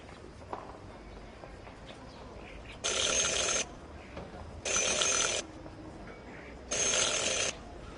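A bell rings in three separate bursts of just under a second each, evenly spaced over a quiet ambient background in the Syberia: The World Before video game.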